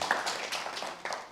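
Audience at a guide dog graduation breaks into quick applause, a dense patter of many hands clapping, brief and fairly close.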